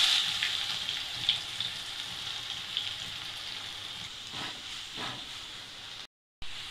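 Onions frying in hot oil for shark puttu after cinnamon, clove and fennel powder, a steady close sizzle and hiss that fades slightly, with a brief stirring scrape and no talking.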